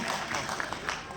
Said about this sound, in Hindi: एक बेर अहाँ सब अनुपम बहन ले एक बेर अहाँ सब ताली बजा दियौ